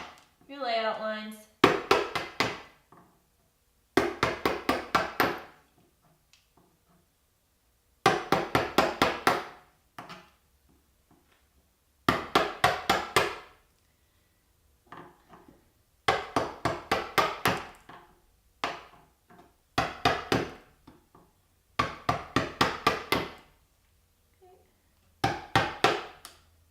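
A spokeshave shaves waste wood in quick bursts of rapid strokes, each burst a close, crisp rasp that stops briefly before the next, repeating steadily.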